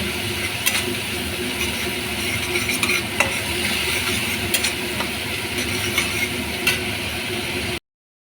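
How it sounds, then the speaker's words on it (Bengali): Yogurt stirred and fried in a pan while cooking paneer butter masala: a continuous close sizzle with occasional sharp spatula scrapes and clicks, steady throughout with no speech, ending abruptly. "দইটি ভালো করে কষানো হয়ে গেছে"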